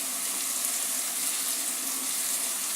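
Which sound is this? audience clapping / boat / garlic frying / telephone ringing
garlic frying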